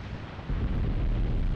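Mortar shells bursting in the war game Graviteam Tactics: Mius Front, a continuous low rumbling roar of distant impacts that swells louder after a brief lull, with no voices.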